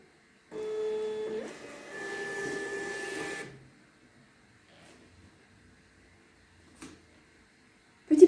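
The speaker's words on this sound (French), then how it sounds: "on va imprimer l'étiquette ensemble" A small desktop printer feeds and prints a shipping label for an online shop, giving two whirring, buzzing passes about three seconds long in a quiet room, then a few faint clicks and a soft thump.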